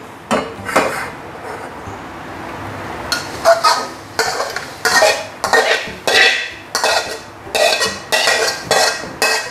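Stir-fried Chinese chive filling is spooned into a metal strainer, producing a series of sharp clinks and scrapes in irregular bursts, close and fairly loud, with a quiet kitchen background between strokes.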